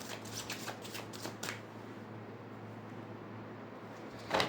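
Tarot cards riffle and flick in a steady, close shuffle for several seconds, fading slightly toward the end, with no talking over it.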